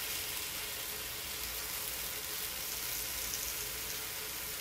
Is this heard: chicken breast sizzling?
yes